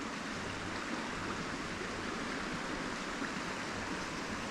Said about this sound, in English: you can see where the water's dropping down through these boulders on the right